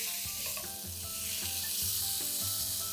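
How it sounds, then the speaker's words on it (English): Spice paste sizzles and fries in oil in a pan, a continuous hiss with occasional stirring scrapes and soft pops, close and steady with no talking. "Now to this we are going to add our spice paste and we are going to cook it till the oil releases."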